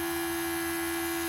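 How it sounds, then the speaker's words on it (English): Door lock vacuum pump on a Mercedes-Benz 500SEL W140 running after a vacuum leak is created, giving a steady, even electric motor drone with a fixed hum that holds unchanged throughout, close and alone. "If I remove it, then I will create vacuum leak, pump will activate."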